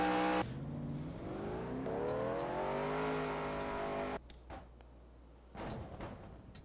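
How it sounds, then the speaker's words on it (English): A race car engine in a racing game sputters as it is fired up, then revs steadily with rising and falling pitch for several seconds before cutting out, followed by brief knocks and a short restart. "That's him trying to fire it and start it. That's what it's doing. He's trying to start it and keep it running."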